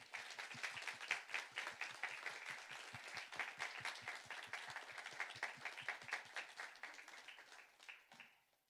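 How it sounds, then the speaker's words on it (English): A panel audience at a Menstrual Hygiene Day event gives a steady round of applause, many hands clapping densely and evenly for about eight seconds before tapering off near the end, with no voices over it. "Round of applause."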